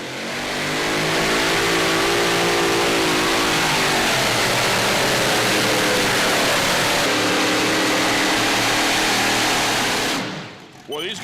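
Hemi engines on a super modified pulling tractor at a Midwest tractor pull roar at full throttle, a loud sustained revving howl that climbs in pitch and then cuts off abruptly near the end, with a voice faintly underneath.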